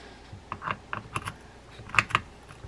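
A ratchet clicks as it works loose a U.S.-thread nut on a 1960s Penn 706 SpinFisher bailless spinning reel. Several sharp, close clicks fall in irregular pairs and short bursts against a quiet background.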